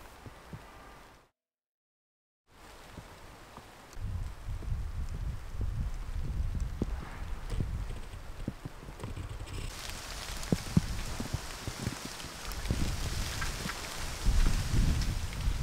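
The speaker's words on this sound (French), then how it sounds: "Il y a au moins un avantage à ce que cette pluie tombe" Rain patters steadily on a vegetable garden, a soft diffuse hiss with scattered drops that grows denser and louder partway through, heard alone without speech.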